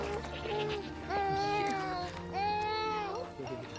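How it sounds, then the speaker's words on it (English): A goat bleats twice, close and loud, each call a long wavering cry with a shaky, quavering pitch, separated by a short pause. "The prodigal goat has returned."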